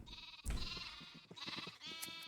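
A sheep in the Minecraft video game gives a few wavering bleats in quick succession, clear and moderately loud against a quiet background, with no talking.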